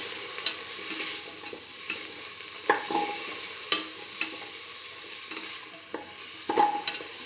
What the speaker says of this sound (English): keep on sauteing, put in the chayote paste,